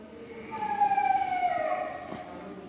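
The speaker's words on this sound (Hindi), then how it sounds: "तो कुछ इस तरह से आउल आवाज करता है।" A recorded owl call plays at a museum exhibit in Dogadda range near Jim Corbett, Uttarakhand, as one drawn-out, gliding wail that slowly falls in pitch over a hum of background noise.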